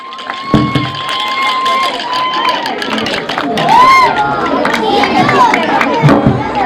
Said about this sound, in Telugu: మునీకి ఒకసారి గట్టిగా చప్పట్లు కొట్టి అభినందనలు తెలియజేయండి